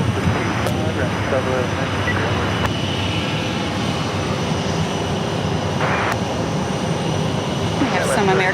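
A Delta Airlines Airbus A321 arriving from Minneapolis at Phoenix Sky Harbor Airport, a loud continuous jet engine roar filling the scene with a few sharp clicks and a voice talking at points.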